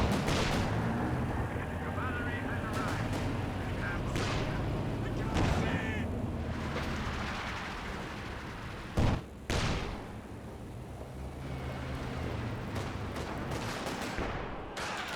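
Tank and anti-tank gunfire in the Company of Heroes 2 video game, including a 6-pounder firing on a Panther, as booming shots and rumbling blasts in a dense continuous battle din, with a voice talking over it.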